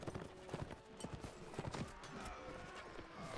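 Horse hooves clip-clopping at a gallop in the video game Mount & Blade: Warband, set during a battle; uneven hoofbeats with faint background noise and a sharp thump at the end.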